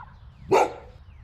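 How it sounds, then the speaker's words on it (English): A single sharp dog bark, loud and close, standing alone against a quiet background. "That bark alone was all I needed to see"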